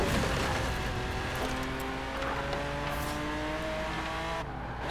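Lamborghini racing in Forza Horizon 4, engine droning steadily with rising gear-change whines and faint tire noise, loud and continuous, cutting off near the end.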